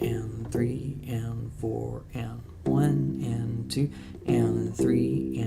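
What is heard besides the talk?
No distinct noise like a dog, phone or traffic.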